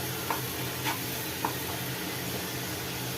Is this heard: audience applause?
no